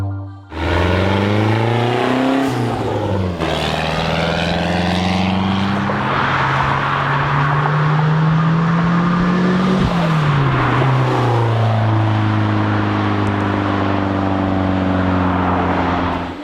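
A turbocharged mid-engine Mitsubishi Eclipse with an overboosting turbo setup is revved through a pull, its loud, close engine note sweeping upward through the gears with shifts and a dip before climbing again, no voices.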